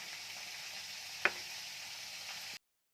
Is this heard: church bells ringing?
no